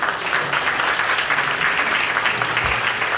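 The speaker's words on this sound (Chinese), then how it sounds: "让我们给这五位名厨掌声鼓励好吗" An audience at a ceremony applauds five renowned chefs with dense, steady clapping that fills the space and stays even from start to finish, with no voices over it.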